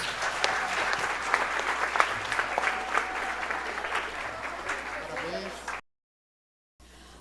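Applause at a school students' presentation on professions, steady dense clapping from a hall audience for nearly six seconds, then a sudden cut to silence before the clapping briefly resumes.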